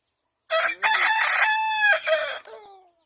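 A rooster crows once, loud and close, a long strained cock-a-doodle-doo against a silent background.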